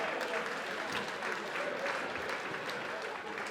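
Audience applause at a boxing fight night in a Brighton hotel ballroom, given for the hotel staff; dense, sustained clapping from a crowd, with a voice faintly mixed in.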